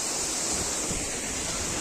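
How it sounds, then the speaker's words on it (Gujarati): A large waterfall at Paniyari falls pours steadily, a dense, continuous rush of water with a roaring hiss, loud and close, with no voices over it. "આ ધોધ છે બહુ જ મોટો ધોધ આવે છે"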